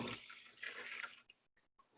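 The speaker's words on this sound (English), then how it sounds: "I'm gonna use my funnel so I don't mess this up. And we're gonna pour that in." Liquid pouring through a funnel in a home kitchen, a short trickling, gurgling splash that fades out, followed by a few faint drips.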